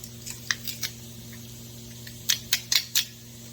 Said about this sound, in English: Of course, we get that scraping sound that we get with fresh garlic.